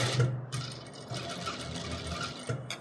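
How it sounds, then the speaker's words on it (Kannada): A sewing machine stitches a round neck on fabric in quick, close bursts of rapid mechanical whirring, stopping and restarting a few times, with no voices. "ಇದು ಹಿಂಗೆ ಇಟ್ಕೊಂಡು ಸ್ಟಿಚ್ ಮಾಡಬೇಕು"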